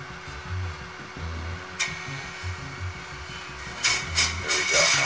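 A wood lathe for a segmented bowl switches on with a click and settles into a steady motor hum, with a few sharp knocks near the end and some speech underneath.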